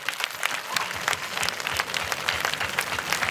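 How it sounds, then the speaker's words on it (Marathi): An audience at a stage dance program bursts into dense, continuous applause, with many hands clapping loudly and evenly throughout. "दहा सेकंद टाळ्या वाजवा बरं"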